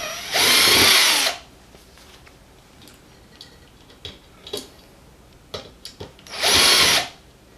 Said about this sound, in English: I'm going to use my cordless for that because it's best for taking these things off.